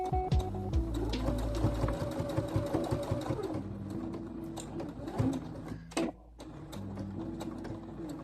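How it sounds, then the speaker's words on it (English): A sewing machine stitches fabric with the presser foot down, running in a steady, close mechanical rattle with a brief pause near the end before stitching resumes. "I'm going to put my presser foot down and continue stitching"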